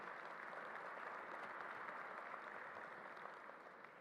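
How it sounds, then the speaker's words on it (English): An audience applauds at a New York event honoring the National Guard on 9/11, a soft, distant, even wash of clapping that tapers slightly at the end. "Let's give them a round of applause for being here today."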